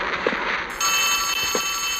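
A telephone rings in Poppy Playtime Chapter 3, a steady electronic ringing tone that starts partway through over a low game ambience with a couple of soft thuds.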